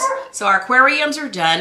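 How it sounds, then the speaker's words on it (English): A pet dog, upset and unhappy indoors, whimpers and yips in short rising cries close by, overlapping a woman's speech throughout. "her dog is a bit upset, so if you're hearing barking, please just drown that out"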